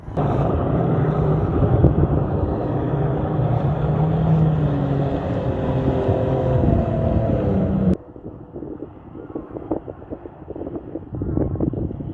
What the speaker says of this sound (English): if you can hear some engines roaring behind me, this is because there's a couple of jet skis on a lake